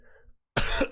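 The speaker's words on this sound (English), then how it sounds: "this cough is killing me" A single harsh, loud cough bursts out close to the mic after a moment of quiet, preceded by faint low background murmur, during a League of Legends game review.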